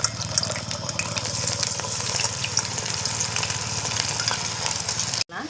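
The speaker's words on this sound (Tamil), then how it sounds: "இப்போ இது எல்லாத்தையும் இதில் போட்டு பொரித்து எடுத்துக்கலாம்." Batter-coated cauliflower deep-frying in oil, with a loud continuous bubbling sizzle close by that cuts off abruptly near the end.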